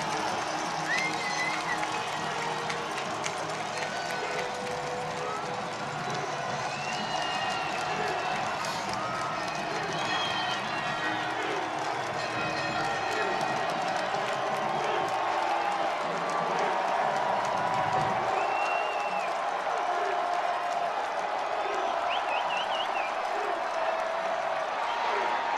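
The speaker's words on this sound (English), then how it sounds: "Now Owens will work against this Bowling Green crowd" Large football stadium crowd at a Bowling Green college game against Toledo, a steady loud roar with scattered cheers and claps throughout, with an announcer talking over it.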